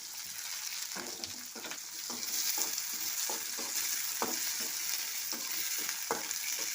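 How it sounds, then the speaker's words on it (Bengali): Onion sizzles in a pan with whole cumin seeds and a dried chilli, a soft steady frying hiss broken by regular knocks and scrapes of stirring. "এই যে পেঁয়াজটা আমার লাল লাল করে ভাজা হয়ে গিয়েছে"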